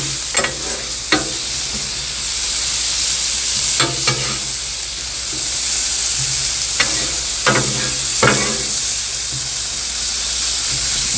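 Vegetables sizzle and fry steadily on a Blackstone griddle, a continuous hiss with several sharp scraping stirs of a spatula against the hot flat-top at irregular intervals, up close and without talking.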